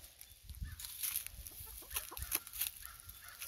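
Backyard chickens cluck and murmur close by in short, irregular bursts over a quiet background, with no talking.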